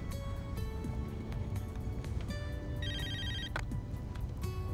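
A telephone rings in a quiet indoor scene of a Russian melodrama, its electronic tone repeating steadily and clearly over a soft background hum, with no talking.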